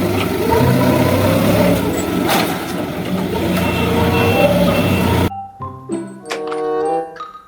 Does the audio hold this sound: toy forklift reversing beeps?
yes